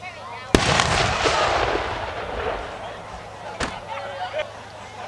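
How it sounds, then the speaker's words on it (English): Two sharp booming bursts from a firework display at a tanks and trucks show, several seconds apart, each followed by a long crackling, fizzing spray, outdoors at a moderate distance. "we are going to begin our infamous firework display"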